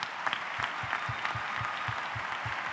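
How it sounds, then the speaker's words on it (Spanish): Audience applause at a 2018 awards gala, a steady dense patter of many hands clapping throughout, moderately loud and with no voices over it. "yo creo que se merece un fuerte aplauso por lo que hace"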